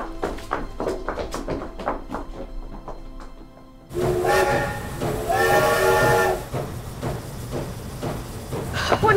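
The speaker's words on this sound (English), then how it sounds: "Is that the train that we take?" Sharp rhythmic tapping gives way to a loud, sustained steam train whistle blowing over rumbling rail noise, then fading into the clatter.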